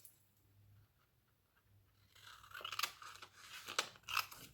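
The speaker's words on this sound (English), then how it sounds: "I'll cut that with the scissors" Scissors cut yellow paper for an envelope pocket, several crisp snips close by, quiet at first and then sharper and louder toward the end.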